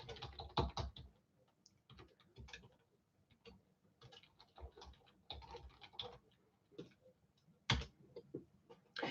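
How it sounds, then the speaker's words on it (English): Someone types on a computer keyboard, with quiet, irregular clusters of key taps and a few louder clacks, heard close in a still room. "I'm going to type this in."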